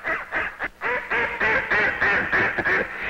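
A flock of the duck family gathered on prairie wetland keeps up loud, close, overlapping quacking in rapid repeated bursts, several birds calling over one another with barely a gap.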